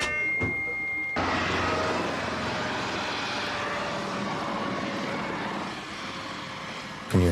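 A medical transport helicopter flies past with a steady, broad engine and rotor roar that holds for several seconds, then fades, ending in a short loud burst. No voices are heard.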